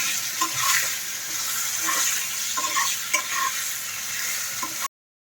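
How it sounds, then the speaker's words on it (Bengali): Spices and chili powder fry and get stirred in a hot pan, a steady crackling sizzle with repeated scraping strokes of the spoon, close and alone, ending abruptly. "রোজকারের মশলাগুলো একটু লঙ্কা গুঁড়ো দিয়ে একটু নেড়ে দেওয়া করে নেওয়া হচ্ছে"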